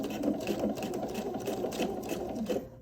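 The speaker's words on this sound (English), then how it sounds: "So we're going to go ahead and just sew a straight stitch" A sewing machine runs steadily through a straight stitch on a rope bowl, a fast even mechanical whir close by with no pauses and no talk.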